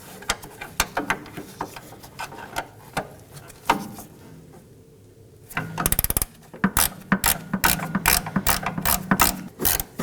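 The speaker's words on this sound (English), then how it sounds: "We're going to remove this bolt using a 12mm wrench." A 12mm ratcheting wrench works a bolt loose on the rear upper control arm of a 2018-2024 Toyota Camry: rapid close clicking bursts, a brief quiet pause, then louder repeated ratchet strokes.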